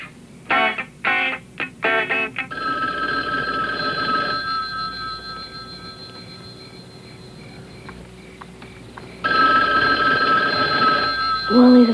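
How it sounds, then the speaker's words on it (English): A telephone rings in a few quick bursts, then a long, loud, sustained electronic ring runs to the end, rising again toward the close. "the phone's ringing."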